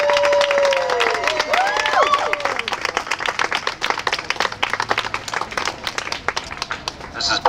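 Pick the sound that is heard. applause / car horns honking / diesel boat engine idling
applause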